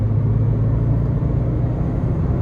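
A 2013 Subaru XV Crosstrek with a CVT and 120k miles accelerates onto a highway, its engine a steady, loud in-cabin drone over low road rumble, holding an even tone without gear shifts.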